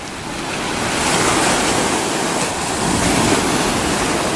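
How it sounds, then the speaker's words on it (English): Choppy ocean surf rolls onto a beach in the Riviera Maya, a steady, loud wash of breaking waves with a broad roar and some wind noise, continuous throughout with no voices. "Almost got hit by a wave there. Because it is a little choppy."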